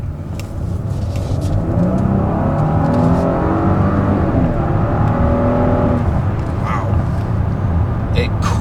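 A 2017 Lincoln MKZ with a 3.0-liter twin-turbo engine and all-wheel drive accelerates hard in sport mode, its engine note climbing in steady rising sweeps inside the cabin, loud and continuous with no talking.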